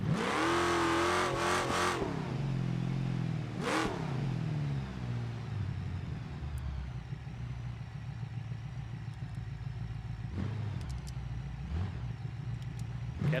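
A wagon's engine in the BeamNG.Drive driving game revs and accelerates loudly and close by, with sharp rises in pitch and several throttle blips, then settles into a steadier, quieter drone.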